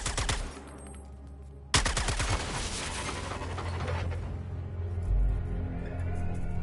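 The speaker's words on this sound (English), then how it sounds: "I say we put many bullets in that junction box to make our way out." Gunfire at a junction box in the Suicide Squad video game: dense rapid bursts of automatic shots, loud and continuous, with a brief lull early on before the firing resumes, over a rumbling game background.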